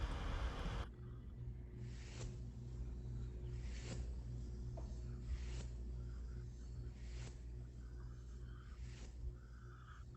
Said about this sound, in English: this sound right here is a hairbrush